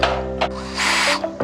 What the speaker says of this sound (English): I'm gonna pre-drill them.